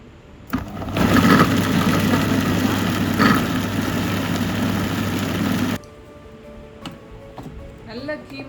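Mixer grinder grinding lamb with garlic and ginger into coarse keema for seekh kebab, a loud motor whir starting abruptly, running steadily for about five seconds and then cutting off to quiet kitchen sounds.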